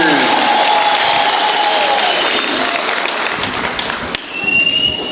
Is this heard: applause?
yes